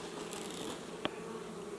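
Honeybees buzzing around a backyard beehive, a steady soft drone close by with a faint higher whine, broken by one brief tap, and no talk.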